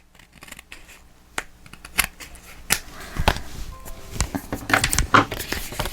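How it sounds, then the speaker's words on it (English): Scissors trim excess black paper from the edges of a box lid in a series of crisp, close snips, sparse at first, then quicker and louder toward the end. "if you have any black hanging off the edges, just go ahead and give it a little bit of trim"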